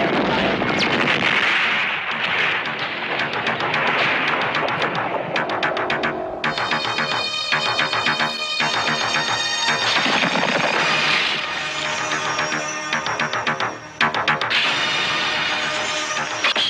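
Film gunfire erupts after a fire command, with dense rapid bursts of shots and layered metallic effects that continue loud and sustained, and voices briefly mixed in.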